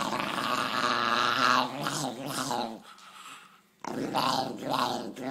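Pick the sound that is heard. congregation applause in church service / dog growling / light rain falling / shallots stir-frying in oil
dog growling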